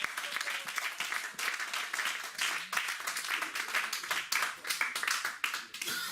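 A church congregation applauds throughout a worship service, dense sustained clapping with cheering voices mixed in, loud and continuous.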